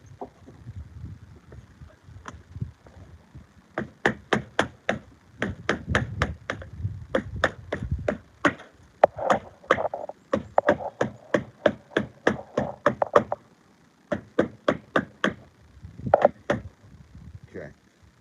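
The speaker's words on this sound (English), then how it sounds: "I'll just wrap my hammer up with this." Sharp hammer taps ring out in quick irregular bursts as a cloth-wrapped hammer strikes gutter end caps, loud and close, with brief pauses and a few low mumbles between runs.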